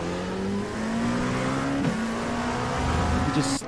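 A race car engine in a video game at Hockenheim drones steadily, then a brief tire squeal and scrape as it slides on cold tires under braking, with the motor revving on underneath.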